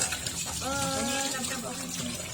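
Tap water runs and splashes into a sink during dishwashing at home, a steady close gush with voices talking over it.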